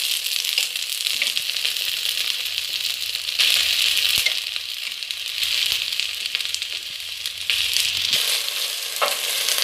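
Quelites, Mexican wild greens, fry in a pan with a steady, close hiss of sizzling that crackles and swells at moments, continuing with no voices present.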